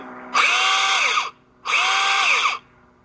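A small electric pole saw, just reassembled, whines up to full speed twice in two short bursts, each revving for about a second before winding down, loud and close.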